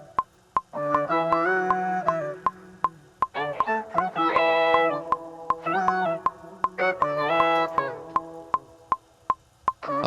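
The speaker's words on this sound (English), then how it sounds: "Pitching down sounds like this." Sampled R&B vocal pitched down to a deeper tone, with slurred, sliding sung phrases over a regular clicking beat, close and clear with no speech.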